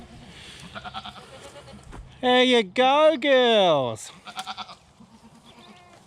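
South African Boer goats on an Australian goat farm, giving several loud, wavering bleats in quick succession in the middle, with a person talking briefly nearby before and after.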